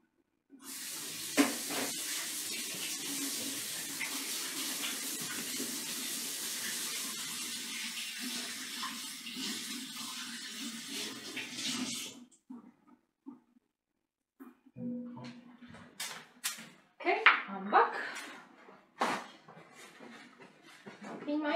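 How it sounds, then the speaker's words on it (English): Tap water runs steadily and close for about twelve seconds while hands are washed in a kitchen sink during a home cooking session, then the flow stops and scattered clatter and handling noises follow. "Now I have to go and wash my hands."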